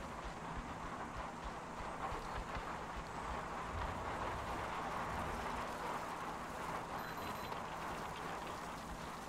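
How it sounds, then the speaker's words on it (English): Steady outdoor wind blows through a radioactive surface area in the video game Metro Last Light, a continuous broadband whoosh with no gusts or breaks, moderately loud and alone throughout. "There appears to be radiation out here. It's also quite windy."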